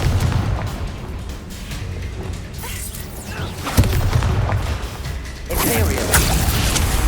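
A Confringo blasting spell blows up in the Hogwarts Legacy video game. Heavy booming and crashing runs throughout, with a hard impact near the middle and a renewed roar of blasts afterward, and no voices.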